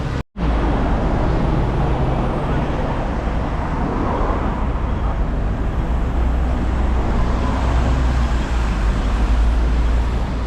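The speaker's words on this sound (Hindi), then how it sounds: "ये गाड़ी देखिए कितनी खूबसूरत गाड़ी जा रही है" Steady roar of busy Hong Kong street traffic, with a car moving along the road, loud and continuous without a clear single pass-by.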